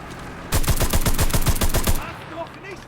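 Rapid burst of gunfire from a small weapon in the video game Enlisted, about a dozen evenly spaced loud shots over roughly one and a half seconds, then a quieter tail with faint voice-like sounds.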